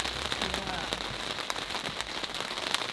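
Rain patters steadily on the surface of a safari vehicle in an African game reserve, a dense, close drumming of drops with sharper individual taps scattered throughout.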